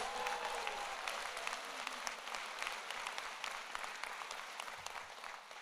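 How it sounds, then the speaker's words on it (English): A ceremony audience at a medical school convocation gives a steady round of applause, a dense wash of clapping that holds throughout, with faint voices mixed in. "please give my dean a round of applause"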